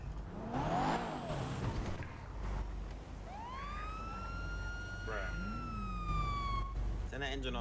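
Police car siren in GTA roleplay, a rising and sustained wail followed by quick yelping warbles, close and loud, mixed with engine revving and someone talking over it.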